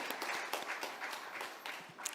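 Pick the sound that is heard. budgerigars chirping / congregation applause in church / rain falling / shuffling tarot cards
congregation applause in church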